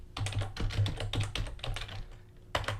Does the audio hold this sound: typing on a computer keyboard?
yes